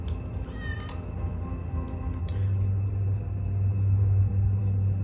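A cat in a TV drama scene gives a couple of short meows near the start, then a low engine rumble from a truck builds and dominates.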